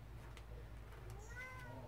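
A house cat meowing indoors: a couple of faint, rising-and-falling meows near the end, with a low steady hum underneath.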